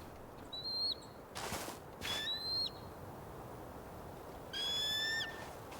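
An eagle calls in the video game Tell Me Why: sharp, high, thin cries in three separate bursts over a faint steady background, with two brief rushing whooshes between them.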